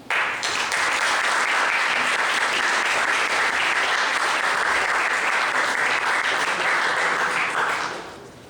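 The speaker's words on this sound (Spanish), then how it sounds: "damos un fuerte aplauso por sus grandes palabras" Strong, steady applause from an audience at a political science workshop, honoring a speaker's remarks, filling about eight seconds at an even level before fading out at the close.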